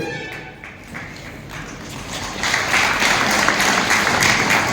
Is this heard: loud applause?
yes